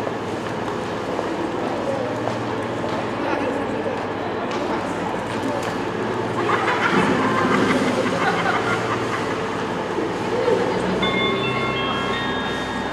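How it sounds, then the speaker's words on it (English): A CrossCountry service pulls into platform 2 at Bournemouth station, a rolling rumble of wheels and carriages with a rising squeal toward the end, as someone speaks over the train noise. "returning onto platform 2 now is going to be the 1447 cross-country service to Manchester Piccadilly."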